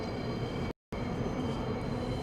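A New York subway M train pulls into an elevated station on Myrtle Avenue, a loud continuous rumble and rail hum broken by a brief dropout.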